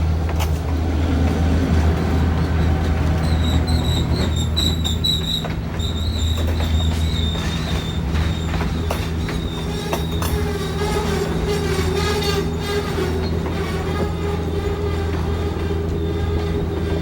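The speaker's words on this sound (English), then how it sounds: "All three trains are going." Three model trains run together on track in a greenhouse nursery, giving a steady rumbling clatter with repeated high metallic wheel squeals over the continuous rolling noise, close and fairly loud, with no talking.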